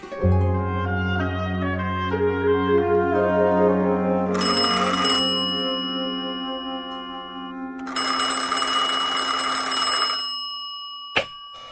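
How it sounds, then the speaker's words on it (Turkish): A classic bell telephone rings in two long bursts of rapid metallic trilling, loud and close, separated by a pause, followed by a faint click. "Hacı Osman Efendi oğlu Ata Bey'e telefon ediyor."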